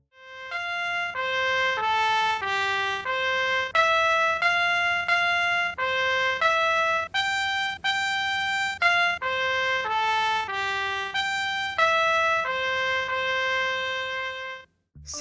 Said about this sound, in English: you will hear me perform a short little piece for the trumpet